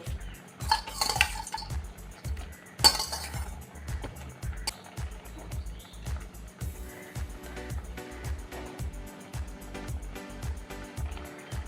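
Fried fritters (bora) dropped into a ridge gourd curry with milk, giving soft clinks and knocks of a utensil against the pot, close and fairly quiet against a steady low background rhythm.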